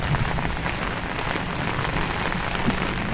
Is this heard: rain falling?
yes